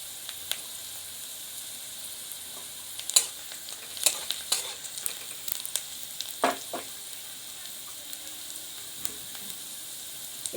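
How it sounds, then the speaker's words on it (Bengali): Chopped garlic and a small onion sizzle and crackle in a hot pan while being stirred, a steady soft frying hiss broken by sharper scraping pops, fairly faint and with no talking. "এবার এগুলো নেড়ে চেড়ে ভেজে নেব"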